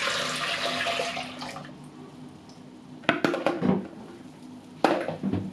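Strained quince liquid is poured back into a metal pot, making a rushing splash that fades, then clanks and knocks of the pot and utensils being handled.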